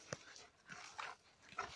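Hunting dogs at a wild boar hunt in Brazil, faint, distant short yips and whimpers scattered across a quiet background.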